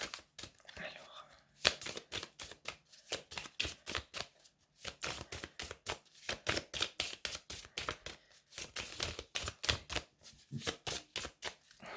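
Playing cards are shuffled and handled up close during a card reading, with quick, crisp riffling bursts repeating in a fast, uneven rhythm, louder and more regular toward the end.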